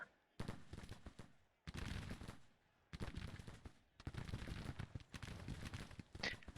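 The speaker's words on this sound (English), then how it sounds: "I do like your 500 guns shooting at the 10 rounds a minute." Massed musket fire from hundreds of Civil War infantry in a Grand Tactician battle at Springfield, Missouri, comes as dense crackling volleys in several loud bursts separated by brief lulls.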